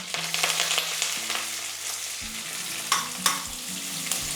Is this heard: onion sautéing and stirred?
yes